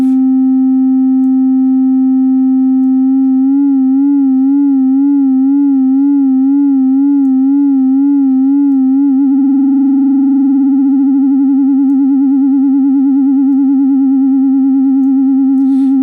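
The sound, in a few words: FM synthesizer tone with sine wave LFO vibrato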